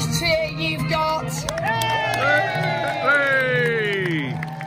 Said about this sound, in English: give him the biggest cheer you've got